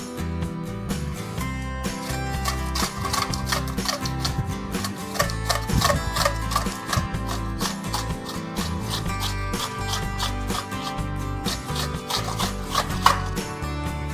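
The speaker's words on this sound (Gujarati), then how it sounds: "હવે આવી રીતે જ કાંદાને છીણી નાખશું." Onions are scraped across a hand grater in quick, rhythmic rasping strokes, close and steady for the whole stretch.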